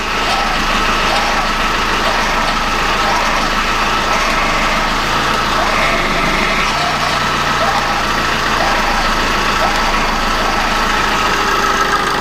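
Under the hood of an idling car, the power steering pump drones and whines as the steering wheel is turned during a fluid change. The sound is loud, close and continuous, with a constant engine rumble beneath it.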